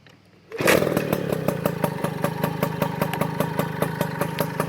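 Magnum Racing engine, a small two-stroke, fired up after a short quiet lead-in and then running steadily at close range, with a loud buzzing drone and a fast regular pulsing.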